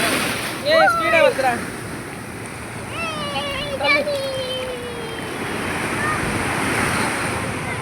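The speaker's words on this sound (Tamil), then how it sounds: "கடல் தண்ணில் இறங்கிவிட்டோம்" Sea waves wash and break continuously at Kovalam beach, close and loud with wind buffeting, while voices call and talk over the surf.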